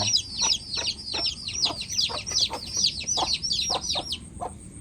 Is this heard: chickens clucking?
yes